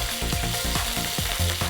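Green chillies frying in hot oil, with close, crackling sizzles that burst out in quick regular pulses as the seeds pop, and no voices.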